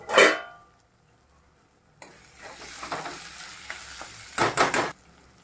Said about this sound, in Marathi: कांदा टोमॅटो जे आपण टाकलं होतं ना ते मी जरा थोडं मी शिजवत ठेवत आहे नरम होईपर्यंत झाकण ठेवून।